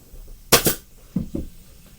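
A staple gun fires staples into boat upholstery fabric during a party barge couch restoration: one loud, sharp double snap, then two softer quick thuds a moment later, close by.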